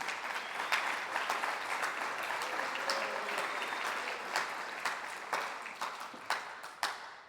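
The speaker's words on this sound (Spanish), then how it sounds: "¿Por qué no damos una ofrenda de palmas?" A church congregation claps together, a dense wash of applause that stays steady, then thins toward the end into scattered individual claps.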